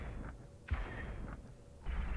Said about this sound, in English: All batteries fire at will.